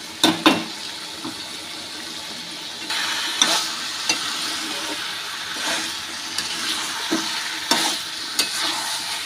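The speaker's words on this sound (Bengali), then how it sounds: "এবার ঢেকে ঢেকে কষিয়ে নিন ধৈর্য ধরে" Chicken curry with potatoes cooking in a pan, a low steady sizzle punctuated by occasional sharp scrapes and clinks of a spatula, spaced several seconds apart.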